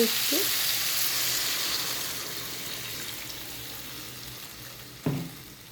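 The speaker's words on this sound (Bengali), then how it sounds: "এবার আমি জল দেব" A frying curry hisses with a broad, steady sizzle after water is added, slowly quieting over several seconds, with one brief clunk near the end and no speech.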